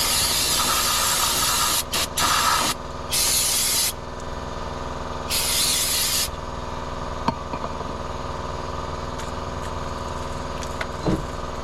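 Brake cleaner sprayed onto front brake parts of a 2016 Scion tC in several sharp hissing bursts of varying length, close by, followed by quieter background hum.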